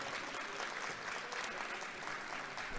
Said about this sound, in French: Applaudissements sur les bancs de la France Insoumise